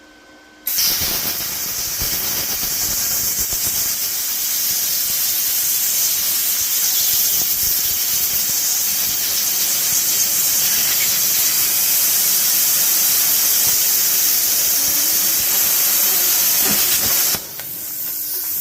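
A Topshak TS-CUT40 40A plasma cutter slices through spring steel in one steady pass, a loud, continuous hissing squeal that holds for about sixteen seconds and then cuts off.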